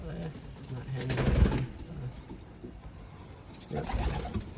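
Pigeons in a backyard loft coo in two low rumbling bouts, close by, while someone talks over them.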